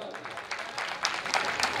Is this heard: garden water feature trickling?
no